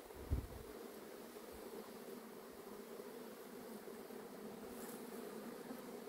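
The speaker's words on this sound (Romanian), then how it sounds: "Ar spune că albinele se dezvoltă foarte bine." Honeybees humming around an opened hive in spring, a soft, steady drone that holds evenly throughout, quiet and close, with a brief thump near the start and no voices.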